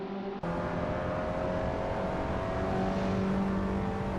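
Caterham racing cars accelerate around Brands Hatch in the Assetto Corsa racing game, a steady droning engine roar with sustained tones that starts abruptly and holds loud and even, with no talking.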